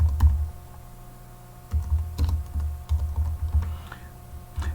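HTML code being typed on a computer keyboard gives close, quick key clicks in uneven bursts with short pauses, over a low steady hum.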